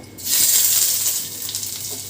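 Half a teaspoon of ginger paste hits hot oil for a prawn curry in coconut milk and bursts into a sharp, close sizzle that flares up, then eases into a softer crackle.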